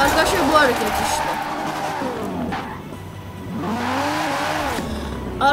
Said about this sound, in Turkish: buradan şimdi el freni yaparak döneceğiz.